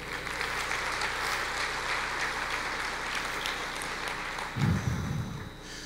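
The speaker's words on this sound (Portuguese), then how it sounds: "Aplauda o Senhor." Church congregation applauding, a steady wash of many hands clapping at moderate distance, fairly faint, continuing for several seconds with a brief louder swell near the end.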